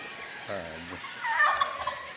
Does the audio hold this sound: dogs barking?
no